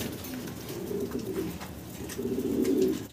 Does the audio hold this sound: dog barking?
no